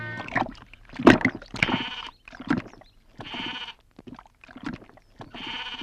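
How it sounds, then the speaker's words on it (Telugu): A goat bleats in short repeated calls at close range, several bursts with brief pauses between them and no talk over them. "మేక నమ్ముకురమ్మని పంపిస్తే మరిది గారు మళ్ళీ వెనక్కి తెచ్చారెందుకో?"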